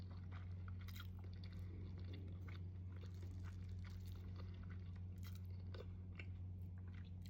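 Crunchy, wet chewing of mango sticky rice from Itamu Thai, with sour mango and sticky glutinous rice, repeated bites and mastication up close against a steady low hum, no talking.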